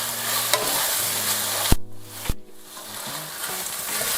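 Stuffing for poblano peppers, mixed with salsa and cheese, is stirred in a hot pan, a steady sizzle with scraping spoon strokes and two sharp knocks midway, close and without talk.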